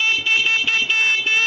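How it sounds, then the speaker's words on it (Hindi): Electric horn on a motorbike running from a lead-acid battery converted to lithium-ion, sounding one steady, bright honk that holds for the whole moment, close and loud with a few slight dips. "और हॉर्न जो है वो भी आपको दिखा देते हैं।"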